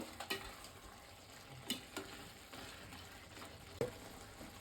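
Chicken being stirred with masala in a pan: a soft, low frying hiss with a handful of sharp spoon scrapes and clinks against the pan, spaced irregularly, no talking.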